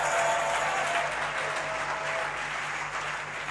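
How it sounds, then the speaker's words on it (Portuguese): Church congregation applauding at a sermon, a steady, dense wash of clapping that fills the room without pause, loud and continuous with a faint low hum beneath. "Ei, você, aplauda ele de novo."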